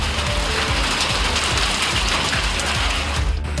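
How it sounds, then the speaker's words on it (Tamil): Steady heavy rain with wind pours down across town streets, a dense, constant hiss and patter filling the scene, loud and close with no voices. "சுற்றுவட்டார பகுதிகளில் காற்றுடன் மழை பெய்தது"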